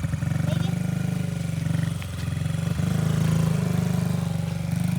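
A Honda CRF50 minibike taking off in second gear, its small single-cylinder engine buzzing steadily and rising slightly in pitch, close and loud, with a brief dip mid-run.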